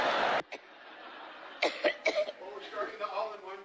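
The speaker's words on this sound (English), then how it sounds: "The coughing fits, which is yet another side effect of strokes." A woman's coughing fit: a harsh burst of coughs, then a short pause and further coughing and throat clearing mixed with strained vocal sounds.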